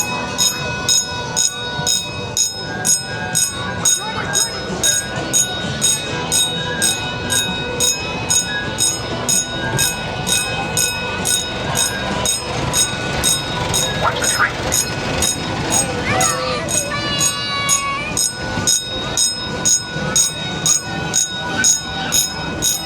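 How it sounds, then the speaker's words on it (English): Kiddie train ride rolling past on the Jenkinson's Boardwalk in Point Pleasant, NJ, a steady rhythmic clatter with a brief whistle-like tone midway, loud and continuous amid crowd noise and music. "That was a train going by."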